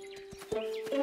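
A cartoon pony makes a brief high whinny with a couple of soft hoof sounds in a children's animated show, short and close.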